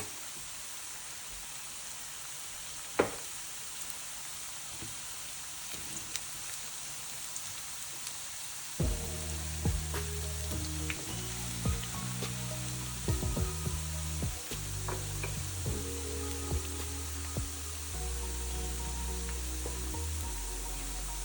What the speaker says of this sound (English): we're going to fry until it's golden brown on the outside